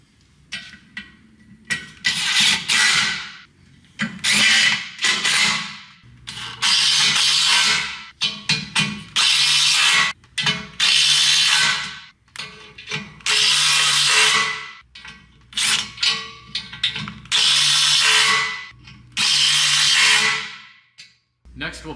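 A power screwdriver drives #12 by 3/4 fasteners to secure muntins during a CrystaLite sunroom installation, with repeated bursts of whirring separated by short pauses, close and fairly loud.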